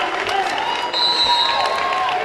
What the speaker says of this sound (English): She'll check out to a nice hand from the crowd and a hug from Coach Pender.